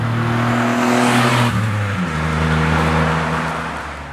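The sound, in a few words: 1980s Suzuki-GM car engine revving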